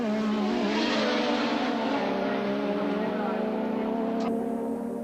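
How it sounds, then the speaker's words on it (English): Formula 1 race cars from 1984 at the Austrian Grand Prix, including a Lotus Renault, scream past with a steady, loud engine drone beneath a commentator's talk, cutting off abruptly near the end. "Das ist Elio De Angelis mit dem Lotus Renault, also im Augenblick keinerlei Gefahr für die McLaren"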